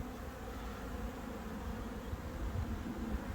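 Honeybees in an opened hive, a dense, steady, low buzzing swarm heard close and fairly faint, continuous throughout with no talking.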